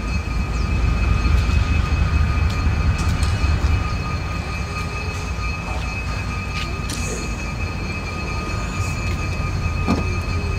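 A freight locomotive on the limestone route rolls in and slows to a stop, its loud, close rumble joined by sharp metallic wheel squeals that ring out over the heavy rolling noise.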